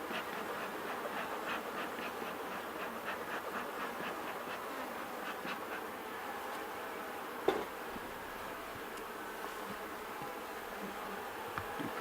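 A steady mass of honey bees hums around an open hive during an inspection, a continuous close buzz with flickering passes of single insects and one brief knock partway through, no voices.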